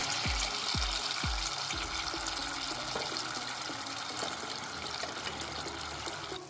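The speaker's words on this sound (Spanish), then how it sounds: "Aquí viene el vinagre." Balsamic vinegar hitting a hot pan sizzles steadily and loudly for several seconds, a dense frying hiss with a few low thuds near the start and no talking.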